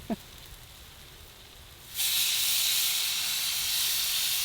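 Salmon and vegetables steaming on a grill give a loud, steady hiss that bursts in suddenly after a quiet start and then holds at an even level.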